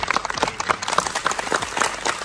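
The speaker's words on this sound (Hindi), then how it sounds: "जरा ताली बजा के दिखाइए कैसे बजाएंगे।" An audience in an auditorium at Horror Con Delhi 2024, a Halloween horror festival, claps steadily in a dense, even patter of many hands from start to finish.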